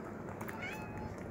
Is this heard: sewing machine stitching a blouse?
no